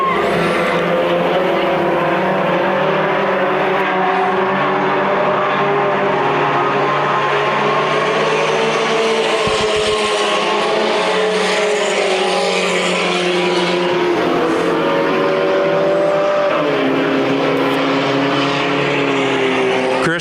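Hobby stock race cars on the dirt oval at Adams County Speedway, Iowa, a continuous loud roar of several engines revving and shifting pitch as they pass, with an announcer's voice faintly mixed into the din.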